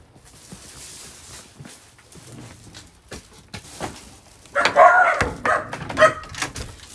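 Dogs bark in short, excited bursts indoors, starting as scattered yips and whimpers, then building into louder, closer, overlapping barks in the final seconds.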